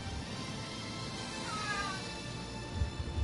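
A cat meows in the fighting game SoulCalibur VI, a drawn-out mewing cry carried over a steady hum of game ambience, with a couple of soft low thumps near the end.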